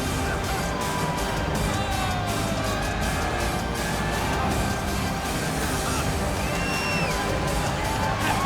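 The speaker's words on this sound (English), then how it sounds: "capacity crowd on hand inside the O2 Arena here in London" Dense, steady roar of a capacity arena crowd at the O2 Arena in London before a UFC middleweight bout in EA UFC 6, loud and continuous with occasional whistles and cheers rising above it.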